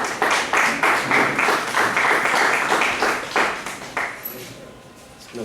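An audience applauds to welcome a speaker at a faculty development session, dense steady clapping that fades out toward the end.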